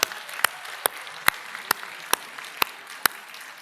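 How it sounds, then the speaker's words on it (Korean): A church congregation claps in unison at a Sunday service, about eight sharp, evenly spaced beats in a steady rhythm, with a faint room murmur between them. "할렐루야! 박수 한번."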